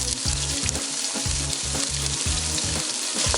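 Onion and garlic frying in hot oil, with steady close sizzling and faint bursts of stirring throughout.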